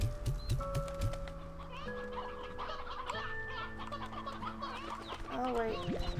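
Stony hens in the video game Slime Rancher 2 cluck repeatedly in a busy cluster, layered over steady game music and ambient chimes, with clucks continuing throughout.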